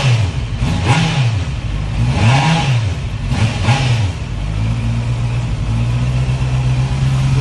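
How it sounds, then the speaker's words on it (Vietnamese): A 2021 Honda CB650R motorcycle fitted with an aftermarket exhaust, revved in several quick rising and falling bursts before settling into a steady rumbling idle, loud and close with no talk. "em nổ máy anh em nghe thử nha"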